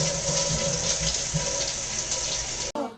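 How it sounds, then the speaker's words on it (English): A cartoon toilet flushes with a steady, loud rush of water for close to three seconds, then cuts off abruptly. "Now flush."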